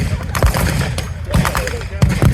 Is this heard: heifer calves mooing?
no